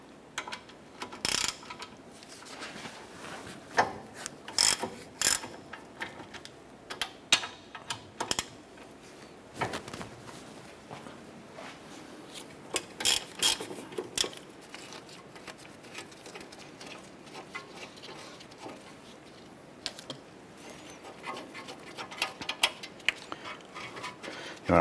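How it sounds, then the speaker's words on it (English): A ratchet with a 17mm socket loosens the brake caliper bracket bolts on a 2008-2012 Honda Accord, giving close, sharp bursts of rapid clicking separated by short pauses, with no talking. "Using a 17mm socket, we're going to go ahead and remove our brake caliper bracket bolts."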